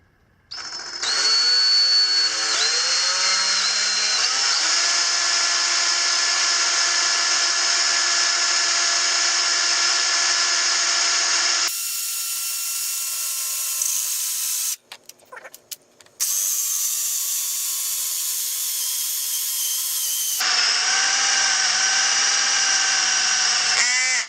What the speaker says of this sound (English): I'm just gonna hold it out here, and then we're just gonna drill away.